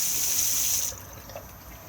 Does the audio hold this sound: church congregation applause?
no